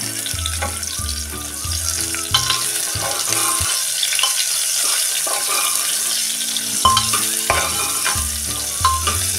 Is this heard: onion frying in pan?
yes